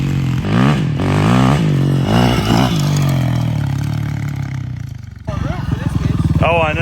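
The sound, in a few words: Yamaha WR450F dirt bike engine revving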